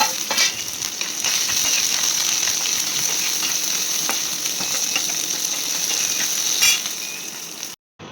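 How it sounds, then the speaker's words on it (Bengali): Grated coconut, ginger, mustard seeds, cumin and green chilli frying together in oil for a Bengali potol dish, a loud continuous sizzle with scraping stir clicks, running unbroken before a sudden cutoff. "দিয়ে দিলাম নারকেল, দিয়ে দিলাম আদা, আর দিয়ে দিলাম সরষে আর জিরে, কাঁচা লঙ্কা সব একসাথে দিয়ে ফ্রাই করে নেব।"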